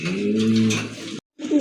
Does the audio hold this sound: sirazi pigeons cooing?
yes